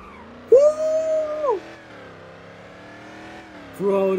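Car engine in the Roblox game Driving Empire, revving up in two short bursts over a steady idle drone; close and moderately loud.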